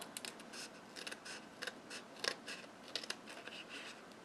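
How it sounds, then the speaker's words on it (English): Scissors snipping strips of cardstock for a handmade card, a quick run of small crisp cuts in irregular rhythm, close but quiet, no talk. "so I just cut strips like this."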